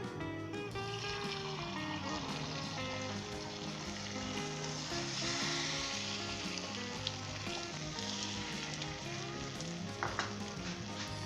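Beaten egg poured onto a hot pan for a street-style lapeta burger fries with a continuous soft sizzle, mostly buried under steady background music.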